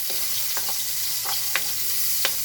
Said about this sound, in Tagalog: ihuhulog ko ang sibuyas. Ayan guys, medyo hahaluin lang natin guys.